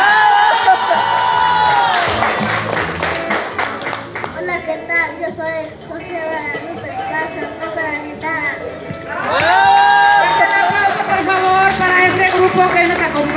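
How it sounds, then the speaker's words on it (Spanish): A crowd at a live concert cheers and whoops, with a voice speaking over the noise. The loud cheering swells at the start and again near the end, with a quieter, talk-filled stretch between. "Fuerte el aplauso para que se animen."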